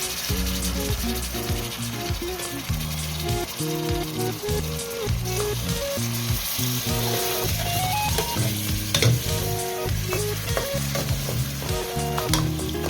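Fish pieces fry in a large pot with a loud, busy sizzle, heard together with background music that runs the whole time.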